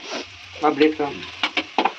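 Onions fry in a pan in a home kitchen, a steady hiss of sizzling under a voice talking nearby, with a few sharp clicks of a utensil.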